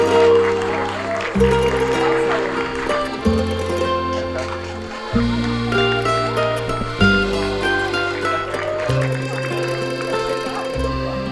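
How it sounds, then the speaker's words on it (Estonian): An audience claps in loud, sustained applause at the opening of a new forest stage in a village, while music plays strongly underneath throughout. "Teeme teile suure aplausi."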